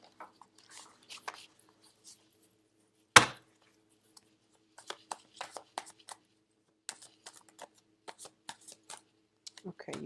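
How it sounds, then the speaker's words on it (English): Tarot cards handled close up: one sharp riffle of shuffling, then a series of soft flicks and snaps as cards are drawn and laid down, quiet and sparse. "I'm going to pull out 5 cards."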